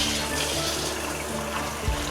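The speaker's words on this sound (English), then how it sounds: "nice steady stream of water coming out" Shower head in a 2020 Winnebago Solis RV spraying a steady stream of water into a cassette toilet, a constant close hiss and splatter with a faint low hum beneath.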